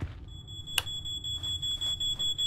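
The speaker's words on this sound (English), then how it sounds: "I need to turn my fire alarm off." A home fire alarm beeping in a quiet room: a thin, high, steady electronic tone with a sharp click partway through, then rhythmic pulsing bursts, loud and close, no talk.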